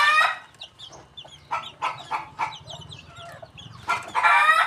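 Native chickens kept in a rural cage, several birds clucking and squawking in short irregular bursts, close and fairly loud, with a louder crow-like cry near the end.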